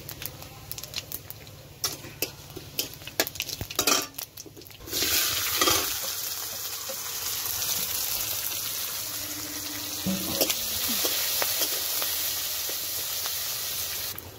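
Chopped onions hit hot oil with five-spice in a pan and burst into a loud, steady sizzle, after a few seconds of clinks and stirring; the frying hiss carries on with occasional stirring scrapes.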